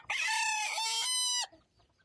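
A rooster crows once in a loud, drawn-out call lasting over a second, then trails off into a quieter cluck and near silence. Close and clear, with no talk over it.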